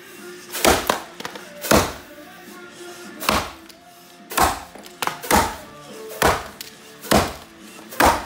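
An axe strikes tulip poplar wood in a series of about nine sharp, heavy thunks at uneven intervals roughly a second apart, close and loud, with faint background noise between blows.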